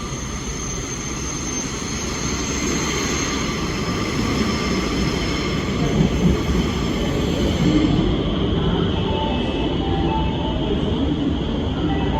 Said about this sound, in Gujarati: આ રહ્યું આપણું મેટ્રો સ્ટેશન અહીંયાથી મેટ્રોમાં બેસીને પાછા હોટલે